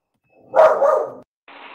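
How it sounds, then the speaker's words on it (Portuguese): A dog barks once, close by inside a home, with a short, rough sound. A fainter, brief sound follows after a pause. "com a participação da Paçoca, que de vez em quando vai dar uns latidos, umas rosnadas"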